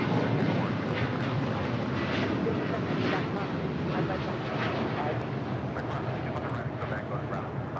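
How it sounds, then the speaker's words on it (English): A United Airlines Boeing 787-10 Dreamliner departing LAX for Tokyo Haneda gives a broad, sustained engine roar that slowly fades, with faint radio chatter and crackles over it. "This is United Airlines Flight 39 Heavy departing to Tokyo, Haneda on a 787-10 Dreamliner"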